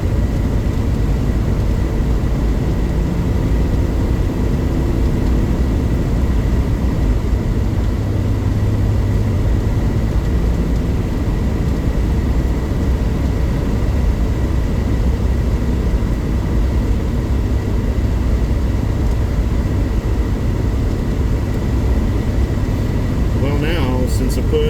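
A Daihatsu Atrai with a turbo three-cylinder engine grumbles along at low speed, a constant low rumbling drone heard from inside the cabin throughout.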